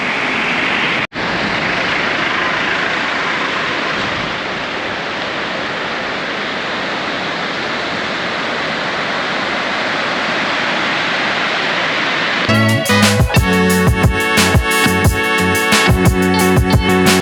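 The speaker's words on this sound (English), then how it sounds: "Look at the water gushing down there." A waterfall in the Kurseong hills of India sends water gushing down in a steady, loud, broadband roar that fills the whole clip, then gives way near the end to a harsher, irregular rumble.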